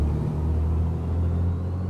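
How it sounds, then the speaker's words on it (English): The twin engines of a Black Square Baron aircraft in Microsoft Flight Simulator 2024 roar at full takeoff power, a steady loud low rumble with no talk over it. "Those engine sounds are amazing."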